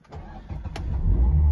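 A Mazda MX-5 RF with the 1.5 SKYACTIV-G engine starts up close by, a brief starter whirr catching into a loud, rising engine roar that settles into a strong, steady idle.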